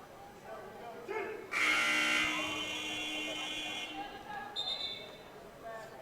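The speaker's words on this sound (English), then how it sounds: "Gonna have to figure out what's wrong with that buzzer" A malfunctioning basketball scoreboard buzzer in a gym during a women's game sounds a harsh, sustained electronic drone for a couple of seconds, then trails off in broken bursts, with an announcer and crowd chatter underneath.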